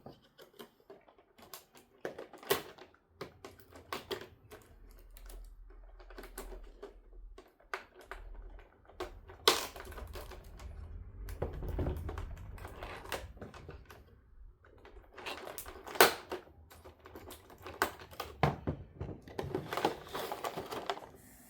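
Ghost Rider action figure accessories being pulled free of the tape holding them inside a plastic clamshell package, heard as scattered crinkling, tapping and scraping bursts, close and fairly quiet, with short pauses between.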